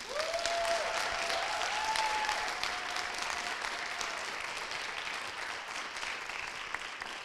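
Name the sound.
applause for the students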